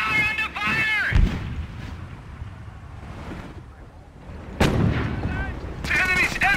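Heavy artillery blasts and gunfire in the World War II strategy game Company of Heroes, during an Operation Market Garden mission at Oosterbeek: two loud booming impacts stand out, with shouted soldier voices and a steady battlefield rumble between them.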